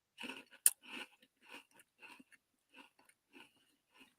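A person munches on snacks nearby, with a series of crisp, irregular crunching bites spaced through the stretch and quiet gaps between them, no voices over it.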